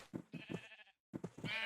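Minecraft sheep on a manual sheep farm bleat in quick succession, several short nasal baas in two bursts separated by a brief silence, close and clear.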